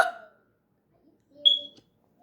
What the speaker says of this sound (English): Let's get the hiccups again.